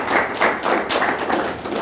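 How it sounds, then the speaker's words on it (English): An audience claps again during a youth skills talk, giving a short flurry of many hands in dense, uneven bursts, close and fairly loud, with no voices over it. "Clap again."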